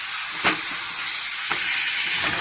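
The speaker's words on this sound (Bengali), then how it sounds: "নেড়ে চেড়ে ভালো করে কষাবো।" Hilsa fish head and taro greens stir-fried in a pan give a steady, bright sizzle. A scrape of the stirring spoon lands about once a second.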